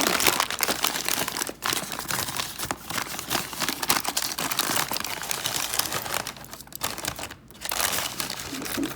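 A plastic bag crinkling and rustling continuously up close as it is opened and rummaged through for estate sale jewelry, with only brief pauses.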